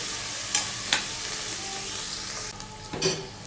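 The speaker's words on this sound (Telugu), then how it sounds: "కొత్తిమీర అంతా కూడా తాలింపు లేక బాగా కలిసేటట్టు మిక్స్ చేసుకోవాలండి" Chopped coriander is stirred into a sizzling tempering for gongura chutney, with a soft steady frying sizzle broken by a few sharp scrapes and taps of the spoon against the pan.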